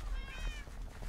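A single short cat meow from the Minecraft video game, rising and falling, clear but fairly quiet over a low background rumble.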